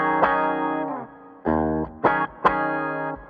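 Clean electric guitar notes and chords played through a Mooer Micro Preamp pedal as an amp's front end, each note ringing out with a slight shimmer before the next is picked.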